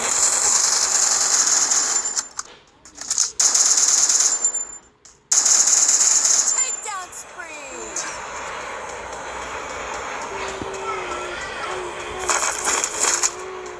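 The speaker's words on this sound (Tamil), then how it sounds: "Vending machine super." A vending machine running, giving loud rattling mechanical bursts and ratchet-like clicks and whirs in stop-start spells, with a faint whine and a little talk in the background.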